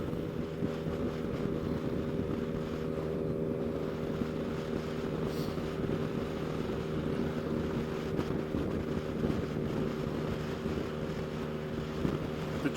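A 2020 Yamaha Tracer 900 motorcycle rides steadily at speed, its engine a continuous low drone under strong wind rush across the microphone, with no talk.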